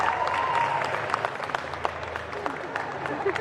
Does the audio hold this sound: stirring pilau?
no